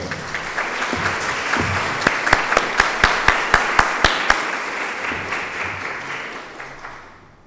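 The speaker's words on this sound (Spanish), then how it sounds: "Un aplauso, por favor, para la doctora." Steady audience applause fills a Spanish-language education research lecture hall in thanks to Dr. Rosa Cintrón, a dense clatter of many hands with a few sharper nearby claps standing out midway before it fades out.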